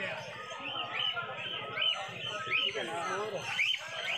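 Lovebirds and pineapple conures at a street bird market, chirping in short high tweets under someone talking nearby, with a busy crowded background.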